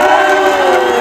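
A large audience of Mammootty fans at a mega stage show in Muscat, Oman, cheering and shouting loudly together in a dense, sustained roar.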